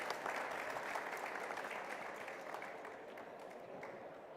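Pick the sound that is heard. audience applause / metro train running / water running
audience applause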